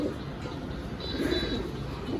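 Rampuri pigeons cooing in a loft: low, rolling coos repeating softly over steady background noise, close but not loud, with no talk.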